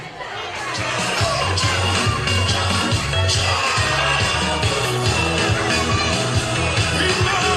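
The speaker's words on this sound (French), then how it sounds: "Le Mokaila, applaudissez-la s'il vous plaît" Audience at a school's end-of-year closing ceremony applauding and cheering, a loud, continuous crowd roar with children's shouts and chatter mixed in throughout.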